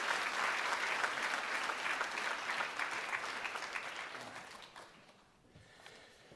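A large audience claps warmly to welcome Michael Douglas at a UN International Day event, steady dense applause that slowly thins and fades toward the end.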